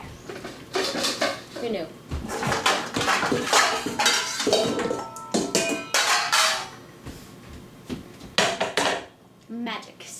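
A mixing bowl being pulled out and handled in a home kitchen while baking cookies, clattering dishware clinks and knocks scattered throughout, with people talking over the handling.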